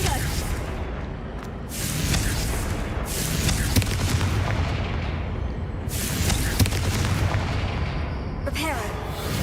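Repeated booming blasts of the Confringo spell in a Harry Potter video game, heavy explosive bursts recurring every couple of seconds over a dense, rumbling game soundscape.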